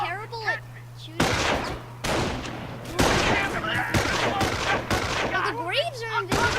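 Gunfire bursts in the Company of Heroes war game, volleys of rifle and machine-gun shots crackling in dense clusters, with voiced unit callouts between and over the shooting.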